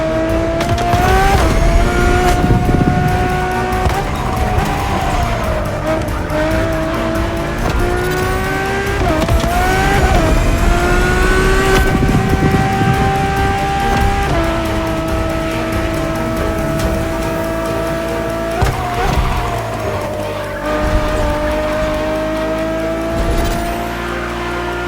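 A Ferrari road-legal supercar with Formula One–derived engineering roars through The Crew Motorfest racing game. The engine howls continuously and shifts pitch up and down through gear changes, with bursts of tire squeal, loud and close throughout.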